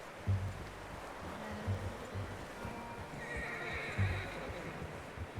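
Horse whinnies and neighs in Red Dead Redemption 2, several short loud calls spread across the stretch, with steady clip-clop of hooves and a rustling outdoor ambience underneath.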